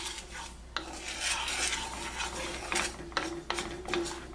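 Seeds being stirred in a dry pan as they brown, a close scraping and rattling with a light sizzle and occasional utensil knocks against the pan.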